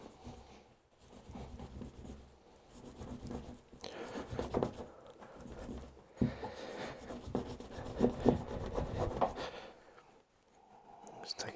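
A cloth rubs and polishes the pistons of a Suzuki Bandit 650 rear brake caliper, giving soft, uneven scrubbing strokes in close bursts that swell and fade, with short pauses between them.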